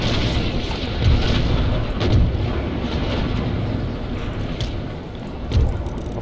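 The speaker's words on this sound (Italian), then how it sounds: "Questa nave sta per esplodere." A naval battle in Empire: Total War, with a useless East Indiaman ship about to explode: deep, heavy booms land three times at irregular intervals over a continuous low rumble of battle.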